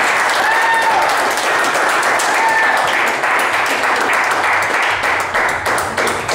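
Sustained audience applause for a comedian at a roast, a dense, steady wash of clapping from a crowd that fills the whole stretch without pause.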